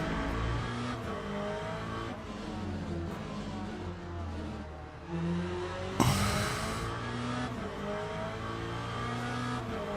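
Corvette race car in the Le Mans Ultimate sim racing game at Portimão, its engine droning and revving steadily throughout, with a sharp transient and brief burst of tire or gear noise around midway, loud and continuous with no talk.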